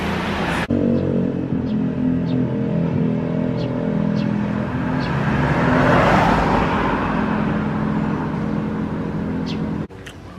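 Cars and other vehicles pass along a roadside, making a steady, loud traffic roar that swells as one vehicle goes by mid-clip, with an engine hum throughout.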